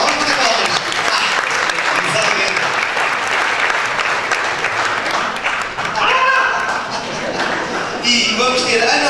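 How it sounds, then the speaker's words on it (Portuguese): An audience claps steadily at a panel session of an employment and training institute event, the sustained applause continuing with a brief dip near the middle and swelling again toward the end. "vamos ter palmas"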